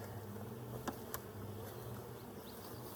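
A steady, close buzz of honey bees at a backyard hive in Colorado, a continuous insect drone with a couple of brief louder clicks and taps over it.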